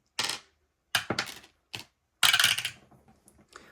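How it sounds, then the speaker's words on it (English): A ten-sided die is rolled several times during a savings binder session, giving short close rattling clicks in separate bursts, with the longest rattle near the end, alone with no talking. "let's roll a 10-sided dice"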